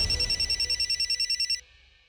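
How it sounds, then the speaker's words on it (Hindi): A telephone rings in a rapid, steady electronic trill, loud and close, then stops abruptly, with no talking. "मम्मी का फोन।"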